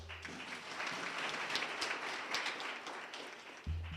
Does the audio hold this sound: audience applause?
yes